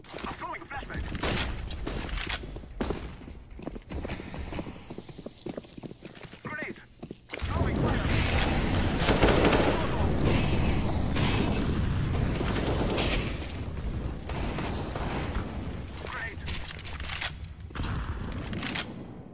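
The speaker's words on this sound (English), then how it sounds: "Throwing a flashbang." Flashbang and smoke grenades with gunfire in CS:GO, scattered sharp shots and thuds followed by a sustained loud hissing burst, with voices talking over parts of it.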